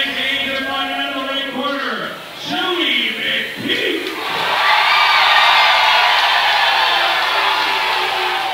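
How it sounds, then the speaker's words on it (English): A crowd at an MMA event cheers and roars as a local fighter heads to the cage, rising into a loud, sustained swell after commentators talk over the opening seconds. "Now, Brian, you hear from the crowd."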